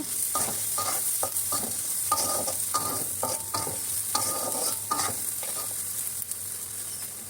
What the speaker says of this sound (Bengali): পেঁয়াজ কুচি দিয়ে দিলাম, ওকে ভেজে